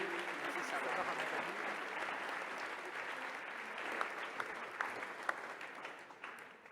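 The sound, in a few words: audience applauding the conference host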